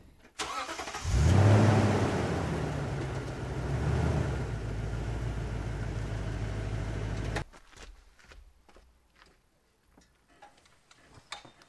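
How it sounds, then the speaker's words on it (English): A truck engine idles and revs to creep the vehicle forward at a campsite, a loud, close rumble that swells then holds before cutting off abruptly, followed by faint clicks and ticking. "I want to move it just up a little bit further so that the ladder can make contact on both ends."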